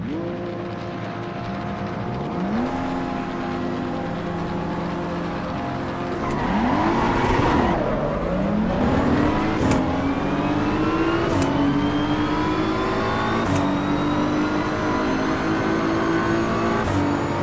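A race car engine in the Assetto Corsa EVO racing game revs and climbs through gears, pitch rising and dropping with shifts, tire squeal mixed in midway, loud and continuous with no talk.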